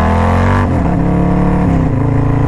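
A Yamaha 1200 Tenere motorcycle riding past on a Daytona morning ride, a loud close engine drone that shifts pitch as it passes and changes gear, steady and throaty throughout.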